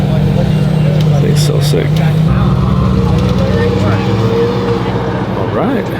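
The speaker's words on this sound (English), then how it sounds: "LaFerrari headed out." A Ferrari LaFerrari supercar rumbles as it drives out from an open house, its engine a loud low drone close by, with people talking and exclaiming over it.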